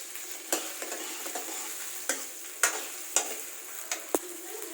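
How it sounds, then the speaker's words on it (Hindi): Onions fry in a pan over high gas heat with a constant hiss. Sharp clacks of a spatula striking the pan recur every half second or so, close and distinct above the sizzle. "ये प्याज भून रहे हैं।"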